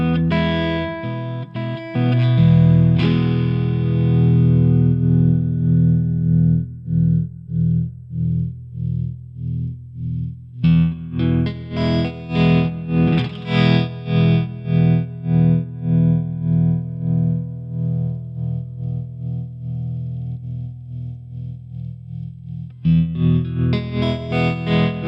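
Distorted electric guitar chords through a Sonicake Matribox sine-wave trem modulation effect, the volume throbbing rhythmically in a steady wobble as notes ring out, alone without any talking.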